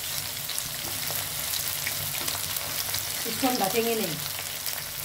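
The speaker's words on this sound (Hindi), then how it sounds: "अब इसमें ऐड करेंगे हम प्याज। प्याज को थोड़ा ब्राउन होने देंगे" Onions fry in hot oil in an open pan, giving a steady close sizzle with some stirring, while a person talks over it.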